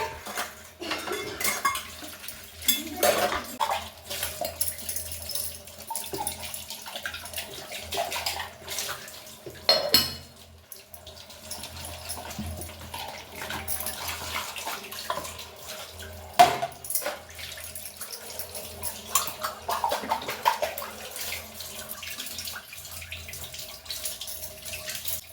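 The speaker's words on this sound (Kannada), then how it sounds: "ಈಗ ಪಾತ್ರೆಗಳೆಲ್ಲ ತೊಳಿತಾ ಇದ್ದೀನಿ ನಾನು." Dishes, pots and cutlery being washed in a kitchen sink under a running tap: steady water flow with frequent clinks and clatters of metal and crockery, close by, with no talking.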